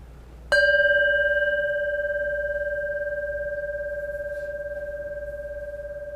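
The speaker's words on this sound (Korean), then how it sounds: "금방 종소리가 있었지요." A single bell at a Seoul Buddhist meditation center is struck once and rings out with a long, pure, slowly fading hum that lasts several seconds, alone with no talking.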